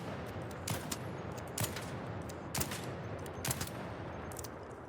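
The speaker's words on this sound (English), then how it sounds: "we'll just hip fire and strafe." A gun with no attachments hip-fired while strafing in the video game ARC Raiders rattles out four short, loud bursts of rapid shots spaced roughly a second apart, over a constant background hiss.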